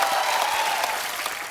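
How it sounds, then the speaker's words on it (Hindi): Studio audience applause at a comedy talk show as cricket guests are welcomed, a dense steady burst of many hands clapping, loud and close throughout. "जोरदार तालियां।"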